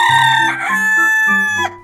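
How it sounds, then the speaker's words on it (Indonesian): A rooster crows once, close and loud, a long strained cock-a-doodle-doo that rises and falls. "Ayam."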